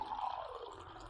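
Warm water poured into a glass holding betel leaf, peppercorns and garlic cloves, a short, faint trickle and fill lasting about a second.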